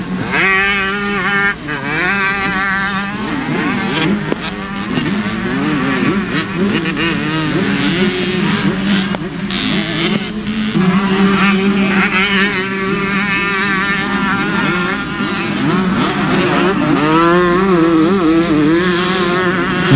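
125cc motocross motorcycles race on a muddy track at a 1985 Brazilian championship round in Londrina. Several two-stroke engines whine and rev loudly and without a break, their pitch rising and falling as the bikes pass.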